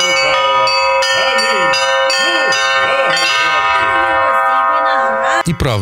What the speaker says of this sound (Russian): Колокольный звон в этот день не умолкал на подворье.